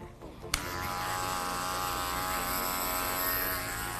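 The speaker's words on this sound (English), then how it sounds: "I'm going to put my number 2 back onto my adjustable clipper." An adjustable electric hair clipper fitted with a number 2 guard starts with a sharp click and then buzzes steadily and close up at a women's faux hawk haircut, with no talking.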